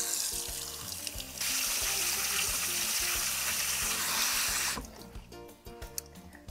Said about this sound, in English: Go ahead and run cold running water over it.